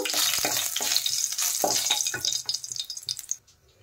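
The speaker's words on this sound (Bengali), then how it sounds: "ফোড়নে দিয়ে দিলাম আমি জিরে, তেজপাতা আর শুকনো লঙ্কা। ফোড়নটা একটু ভালোভাবে ভেজে নেব।" Cumin, bay leaf and dried chilli fry in hot oil with a loud, crackling sizzle and spatula stirring scrapes, which thin out and drop away near the end.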